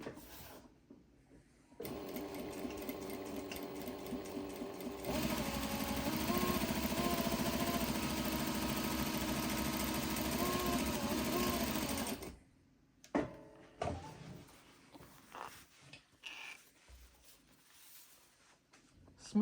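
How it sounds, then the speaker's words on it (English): A Juki DDL 8700 industrial sewing machine stitching, its steady whirring hum running loud and continuous for several seconds, then stopping and giving way to a few scattered clicks and handling sounds. "Smooth, beautiful sewing, very precise stitch."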